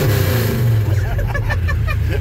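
A 1984 Dodge RAM D150 pickup's engine pulls steadily in third gear on back roads, a loud continuous low drone with some engine harmonics rising slightly, and a voice talking over it partway through.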